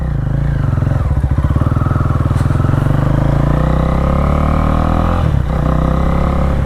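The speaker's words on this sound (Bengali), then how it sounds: "এখন ভাই সৌভিকের বাইকটা চালিয়ে একটু ফিল নিই গাইস, উইদাউট এক্সজস্ট ভাই, এখানে এক্সজস্ট লাগানো নেই।" A KTM Duke motorcycle runs with no exhaust fitted, a loud, close, throbbing engine rumble that holds steady, then briefly dips and recovers near the end.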